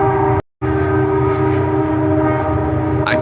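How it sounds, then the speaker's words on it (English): A passing train sounds loud and close, with a sustained horn-like tone over a steady rumble. Near the start there is a brief moment of total silence. "See, I brought this train for you."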